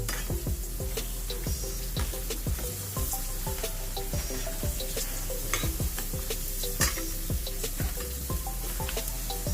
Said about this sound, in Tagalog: So haluin mo lang yan, ate.